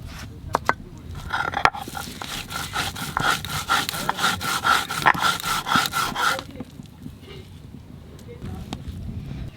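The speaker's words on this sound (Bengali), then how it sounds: "আর রসুন আর লঙ্কা একসঙ্গে বেটে নেব।" Garlic and chilli ground together on a stone, a rhythmic run of rough scraping strokes lasting several seconds before stopping, with a dog barking briefly nearby and people talking in the background.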